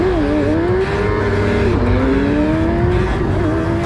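F1000 single-seater race cars pulling away at the start of a race at Silverstone, a loud dense roar of several engines revving and rising in pitch together, with gear changes dipping the note, continuous throughout.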